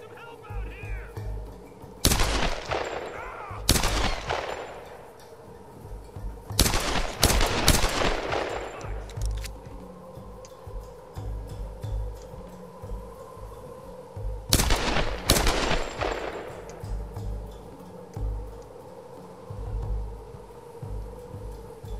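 Bursts of gunfire in the video game Tomb Raider, three loud clusters of rapid shots separated by pauses, over a steady low game rumble, with voices talking in between.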